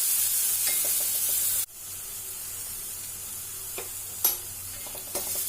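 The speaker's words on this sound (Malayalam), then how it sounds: "നന്നായി മിക്സ് ചെയ്ത് കൊടുക്കാം" Drumstick leaves sizzle in a hot pan as a stir-fry is stirred. Bright hissing frying noise drops suddenly partway through, then scattered scraping and stirring clicks follow over a softer sizzle.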